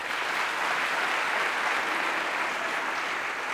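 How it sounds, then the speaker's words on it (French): Dense, continuous audience applause fills a political opposition convention hall, steady and fairly loud from start to finish with no other sounds standing out. "Applaudissez-les."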